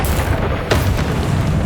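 Incendio fire spell blast in Hogwarts Legacy, a loud roaring boom with a sharp burst hitting partway through over dense rumbling combat noise.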